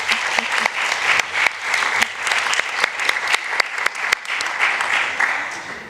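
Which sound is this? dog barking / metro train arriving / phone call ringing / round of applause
round of applause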